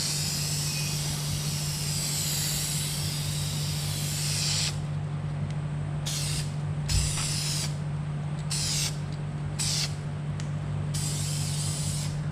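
Aerosol spray paint hisses onto a Mitsubishi Evo X car gauge cluster surround in a long pass followed by several short bursts, close and steady over a low background hum.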